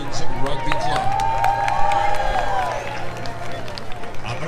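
Crowd at a downtown Reading holiday parade cheers and claps as a women's rugby club passes, a steady roar of voices and applause with an announcer's voice and a whistling tone riding over it.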